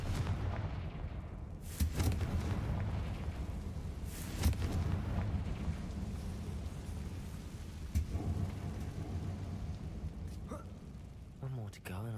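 Confringo fire spell blasts in Hogwarts Legacy booming repeatedly over a rumbling game backdrop, several sharp cracks landing among low, thunder-like roars, with a character's voice speaking near the end.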